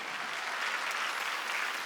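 Steady applause from a church congregation at a Wednesday worship service, dense and continuous throughout with no talk over it.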